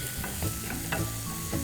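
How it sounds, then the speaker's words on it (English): Onions sizzling in a pan with minced ginger, garlic and green chilies, stirred with a few scraping strokes over a steady frying hiss, close and clear, with no voices. "We're going to cook the onions until they are translucent and a little brown"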